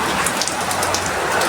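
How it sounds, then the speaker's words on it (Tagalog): Heavy rain pours down in a dense, loud, continuous hiss with scattered sharper drop impacts, with no voices over it. "Lakas ng ulan."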